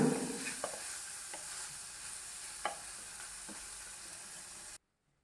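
Bitter gourd pieces and lengthwise-slit green chillies sautéing in a pan for a Kerala pavakka pulingari, a steady close sizzle with a few soft spoon scrapes, then stopping abruptly near the end.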